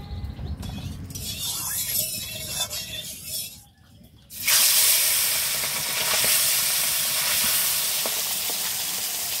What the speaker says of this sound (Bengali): সর্ষে বাটা করবো তো, তাই মাছগুলো একদম হালকা করে ভাজবো।